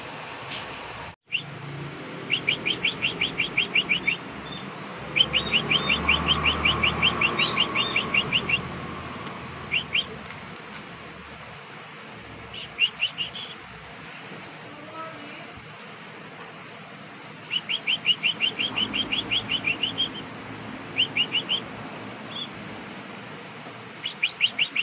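Canary chicks being hand-fed give bursts of rapid, high chirping, repeated in several clusters against a quiet room background.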